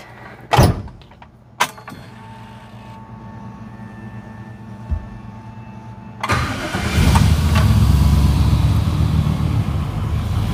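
A Pontiac Tempest engine cranks over and catches at about six seconds, then settles into a loud, steady idle; a couple of sharp clunks and knocks come before the start.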